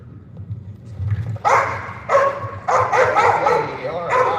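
A dog barks during bitework training with a decoy, giving four loud, spaced barks over a low background rumble.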